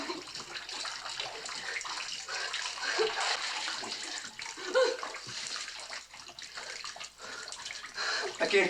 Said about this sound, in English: The water's just gonna rise, keep rising, and we're not gonna get out of here.